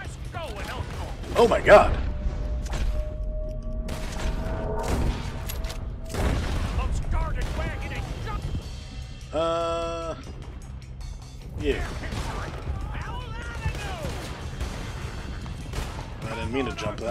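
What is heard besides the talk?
gunfire from enemies in the video game Red Dead Redemption 2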